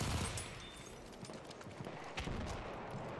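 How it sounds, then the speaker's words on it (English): Gunfire in the WWI shooter Battlefield 1, scattered shots and bursts crackling at a moderate distance amid ongoing battle noise, with little talk. "I think somebody's shooting at me or something."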